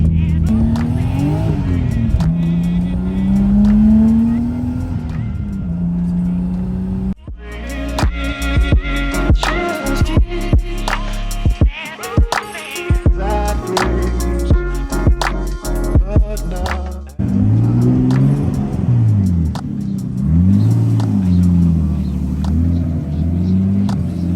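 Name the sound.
Nissan Skyline R32 GTS-T engine driving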